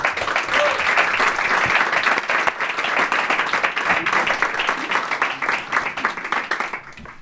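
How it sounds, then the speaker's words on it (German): An audience applauds the panel at a German discussion event, the Jakobiner-Klub: steady, dense clapping from a full room that holds fairly loud for about seven seconds and thins slightly near the end. "ich bitte nochmal um einen herzlichen Applaus für unser Podium"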